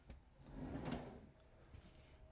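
A storage drawer in a 2022 Grand Design Solitude 373FB RV sliding open or shut, one soft rolling rumble building and fading, faint and close.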